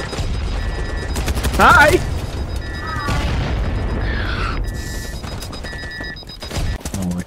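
Gunfire and blasts in the shooter BattleBit Remastered, with a heavy boom near the start and dense bursts of shots running throughout under excited voices and game sounds.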